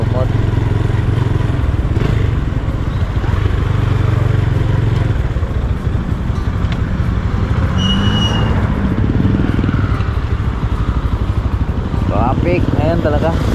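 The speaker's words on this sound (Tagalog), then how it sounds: "Traffic ngayon talaga." Busy road traffic with motorcycles and cars on the way back to Calaca, a constant loud engine rumble with passing motorbikes and clatter throughout, heard under people talking nearby.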